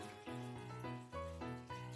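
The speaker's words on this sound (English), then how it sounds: "Pour in your water." Water is poured slowly into a container, making a quiet, gurgling fill with tones that shift in short steps over two seconds, with no talking.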